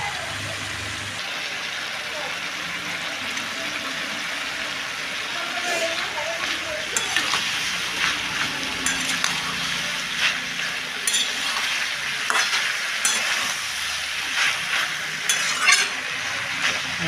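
Tomato goes into a simmering taro curry on the stove, producing a steady hiss of frying with intermittent metallic stirring clicks and scrapes throughout, and a voice talks faintly in the background.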